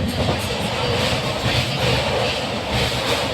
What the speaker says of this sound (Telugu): ఇప్పుడైతే నేను ట్రైన్లోనే ఉన్నాను.